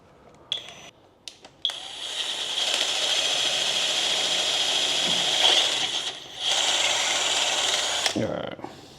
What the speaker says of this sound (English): All right, that drilled that one out, didn't it?